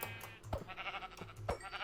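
Two sheep bleats from the Minecraft video game, each a short wavering bleat, close and clear over a low steady hum.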